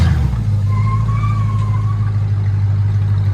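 A Chevy Caprice 5.7L V8 with a loud exhaust setup, holding a steady deep low rumble close by with a slight rise in revs partway through, continuous and without talk.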